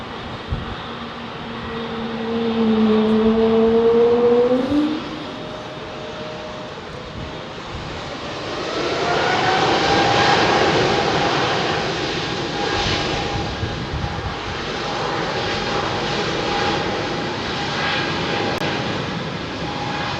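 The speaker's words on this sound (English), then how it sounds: "Taking off in the clear blue skies, man." Jet airliner taking off at London Heathrow Airport, its engine roar swelling loud and near, dipping, then rising again into a steady sustained rumble with a whining tone that holds to the end.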